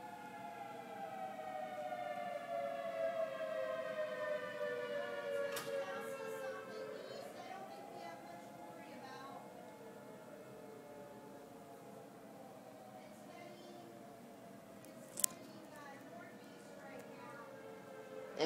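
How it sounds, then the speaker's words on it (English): Tornado civil defense sirens wail on a stormy afternoon, long rising and falling tones sweeping slowly across the air from a distance, steady and fairly faint, with a brief sharp click near the end. "So yeah, guys, tornado sirens today."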